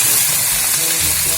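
Meat dropped into hot oil sizzles and hisses steadily, a loud, close, continuous frying crackle with no talk over it.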